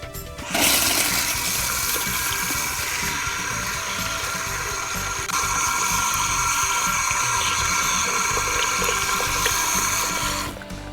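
Steady, loud rush of running water continues unbroken for about ten seconds while tape-in hair extensions, clipped together with a binder clip, are washed, with no voices.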